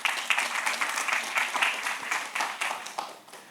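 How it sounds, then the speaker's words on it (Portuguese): An audience in a talk or church setting breaks into applause, a dense burst of many hands clapping at once that fades slightly toward the end, with no speech over it. "Uma salva de palmas a ela também"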